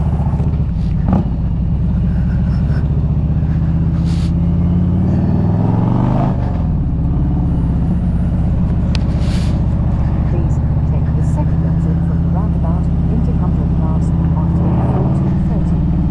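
Harley Davidson Street Glide engine with a performance exhaust rumbles at a steady low idle, a deep continuous throb with a slight rise in revs midway, heard close under someone talking.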